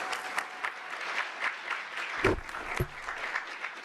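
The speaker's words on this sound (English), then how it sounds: "Can we have a round of applause," An audience claps in steady, moderately dense applause, with a couple of low thumps partway through.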